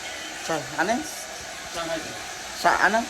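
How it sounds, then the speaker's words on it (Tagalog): A hair dryer blows steadily in a hotel room in Taipei, a constant close whoosh running under several short bursts of talking. "At busy sa pag-blower si Mamwa."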